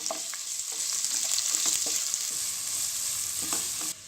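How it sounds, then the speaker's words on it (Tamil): Chopped onions sautéing in an oiled pan for mint pulao, giving a steady close sizzle and frying hiss with occasional stirring clicks and scrapes throughout, no voices. "சேர்த்துட்டு இந்த வெங்காயம் பொன்னிறமாகிற வரைக்கும் நம்ம நல்லா வதக்கிடலாம்."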